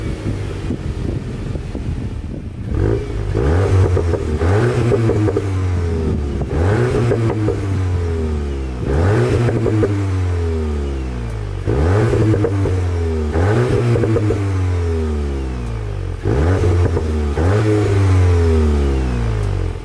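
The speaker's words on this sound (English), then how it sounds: "I'll get you a start up and we'll give you some revs as well," A 2021 VW MK8 Golf GTI Clubsport engine revs repeatedly, loud and close, about eight sharp rises each falling back with overrun crackle, against steady wind noise and no talking.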